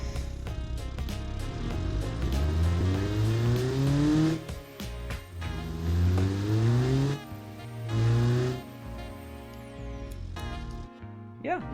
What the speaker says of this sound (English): you can really hear the turbo come off it, and I just think it's a nice sound